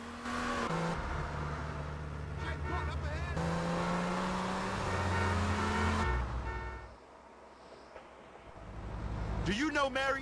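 A car in Grand Theft Auto Vice City Stories drives with a sustained engine drone that shifts pitch as it accelerates and changes gear, fading briefly before revving again, with game music and talk alongside.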